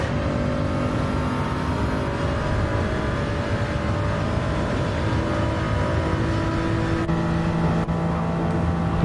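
Toyota Supra GR.3 race car engines in Gran Turismo 7 hold a steady, loud drone with sustained engine tones throughout, as one Supra chases another on track.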